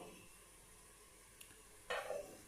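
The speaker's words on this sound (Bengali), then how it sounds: "পাশে একটু মুরগির মাংস ভাজতেছি।" Chicken meat frying in a pan: a quiet stretch ends in a sudden loud burst of sizzling and stirring that slowly fades.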